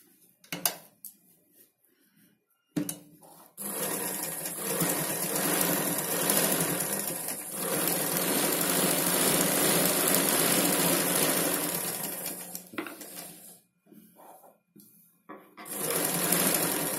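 Sewing machine stitching the seam of a Punjabi dress pant, running in long continuous bursts with short pauses and brief stops between, close and fairly quiet with no talk.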